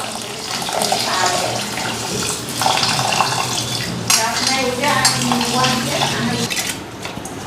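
Tap water runs steadily into a sink with splashing and small clinks of dishes while someone washes their face, a continuous close wash of sound from start to end.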